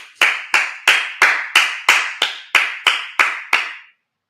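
Ten sharp claps, close and loud, spaced evenly about every third of a second, with a short stop after the last one.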